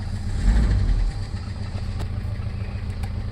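A Toyota Revo engine runs just after starting, a close, loud idle that surges briefly early on and then settles into a steady, even rumble, with no talk over it.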